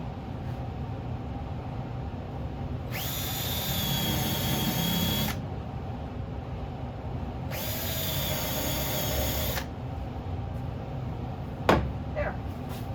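Power drill boring a shallow hole into wood for an oil lamp holder: two separate high whirring runs of about two to three seconds each, close and clear over a quiet background, followed by a couple of small knocks.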